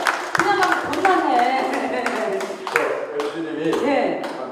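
An audience at a Korean folk music association concert in Incheon gives a short burst of scattered clapping, moderately loud, with talking voices running over it.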